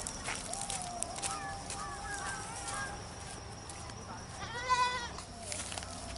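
Goat bleating in a rural Indian village setting, a few wavering bleats against quiet background noise, with a louder, more distinct bleat near the end and faint voices around it.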